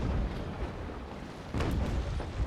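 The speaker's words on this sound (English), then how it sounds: "I even thought firing one cannon at a time just to make sure that I do hit with every single shot" Ship cannons firing in the naval combat game Naval Action, deep rumbling booms with a heavy blast just past midway, loud and continuous with no voices.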